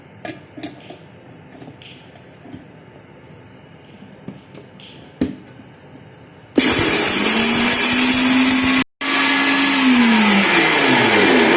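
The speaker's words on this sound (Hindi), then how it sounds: "अब ग्राइंडर के अंदर तमाम मसाले डालूंगी और इनको मैं पीस लूँगी।" Electric spice grinder whirring through cinnamon, black pepper and cloves, a loud steady motor roar starting abruptly after quiet handling clicks, cutting out for an instant, then resuming.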